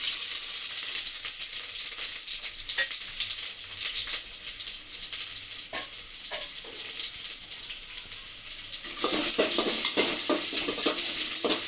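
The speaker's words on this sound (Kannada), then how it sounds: "ನಂತರ ಕಟ್ ಮಾಡಿರೋ ಈರುಳ್ಳಿ ಹಾಕ್ಕೊಳ್ಳಿ" Chopped onions tossed into hot oil in a pan, a continuous bright sizzle with a few scraping stirs and clinks, close and steady throughout.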